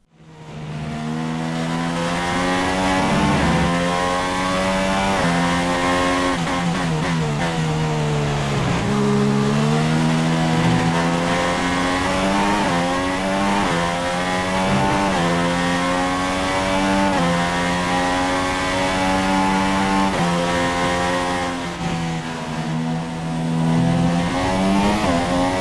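Renault RS17 Formula 1 car engine roaring in a racing video game, a loud sustained high-pitched whine rising and falling through gear changes and revs, continuous and close with no voices.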